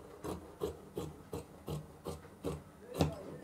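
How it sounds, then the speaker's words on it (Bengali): Fabric for a maxi dress is cut in about seven rhythmic, evenly spaced rasping snips, faint and close, with no voices. "তো আমরা এখান থেকে এখন কেটে নেই"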